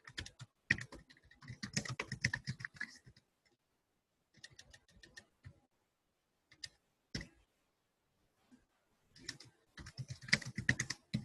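Bursts of fingers typing on a computer keyboard, clustered clicks with pauses between, close and moderately loud, with no speech.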